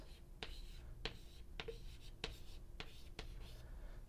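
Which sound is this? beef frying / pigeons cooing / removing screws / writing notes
writing notes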